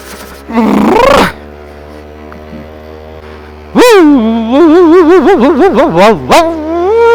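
A dog gives a long, wavering vocal cry, then after a pause a series of loud, warbling yowls close to the listener, in snowy mountain pass conditions at minus 12 degrees.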